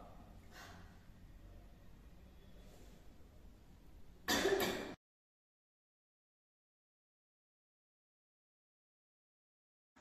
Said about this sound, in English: mucus expectorated by a huff or a gentle cough